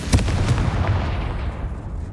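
A Confringo spell blast in Hogwarts Legacy, a sharp explosive burst near the start followed by a rumbling, crackling tail that fades over about two seconds, with no talk.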